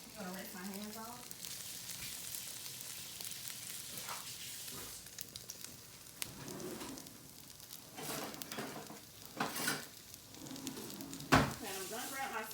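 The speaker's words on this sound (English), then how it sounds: "you just let that fry up." Food frying in a pan for a breakfast, a continuous low sizzle with scattered crackles and a few clattering bumps, with faint talking in places.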